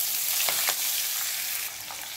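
Onions sauté in a pan with mustard seeds, cumin, asafoetida, peanuts and spring onion, a strong, close frying hiss with a few stirring scrapes that eases slightly toward the end.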